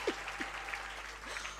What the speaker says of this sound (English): Shall we applaud the teachers?